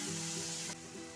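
Boiled dal roasting in a pan as filling for dal puri makes a brief, quiet, even sizzle that drops slightly in level near the end.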